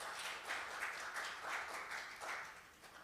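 Applause from a seminar audience welcoming a speaker at an international joint maritime seminar on green shipping finance: a steady, moderately loud wash of clapping that swells in small waves for about three seconds, with no voices over it.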